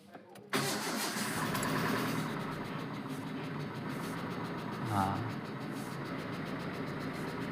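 A Proton Saga BLM with an unstable idle cranks and fires up, then settles into a steady close engine idle with a slight revving swell partway through.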